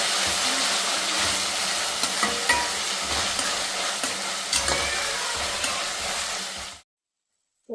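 Chicken masala for a spicy chicken fry sizzles loudly and steadily in a pan, with repeated scraping and stirring knocks, before cutting off abruptly into silence.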